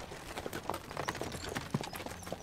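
Horse hooves clip-clop in the Kubifaktorium video game, a quick irregular run of light hoof taps over a busy bed of game sounds.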